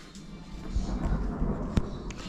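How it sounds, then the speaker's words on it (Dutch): Low rumbling thunder over Hasselt rolls steadily, loud and close, with a few sharper cracks breaking through. "Was het onweer gedaan, Dimitri?"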